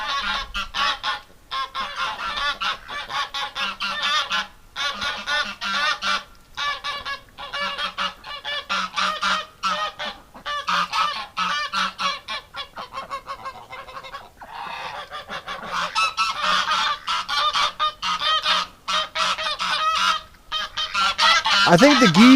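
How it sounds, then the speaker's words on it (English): A flock of agitated geese honks loudly and continuously in a winter pen where ducks are kept, the calls overlapping in dense, near bursts with brief pauses, growing harsher toward the end. "Oh, the geese are getting upset."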